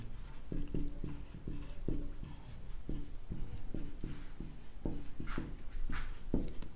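Chalk or marker writing on a board during a Class 10 chemistry lesson on acids, bases and salts, a steady run of short scratchy strokes with a few louder taps, close and fairly clear, with no talk over it.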